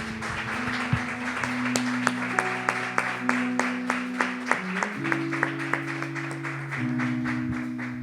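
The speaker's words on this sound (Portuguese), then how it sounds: "Você pode aplaudir ao Senhor?" A church congregation claps in steady rhythmic beats, moderately loud, over sustained organ-like tones with a faint voice.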